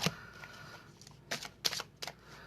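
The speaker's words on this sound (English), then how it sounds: "I'll just sit here and shuffle." Tarot cards shuffled by hand in a quiet room, heard as a few soft, papery riffles and flutters in short bursts with pauses between them.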